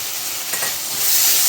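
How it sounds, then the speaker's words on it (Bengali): Ground spice paste with tomato, for a pomfret curry, fries in a pan with a loud close hiss and sizzle that swells briefly as it is stirred, with no talking. "এবার ভালো করে মশলাটাকে কষিয়ে নেব"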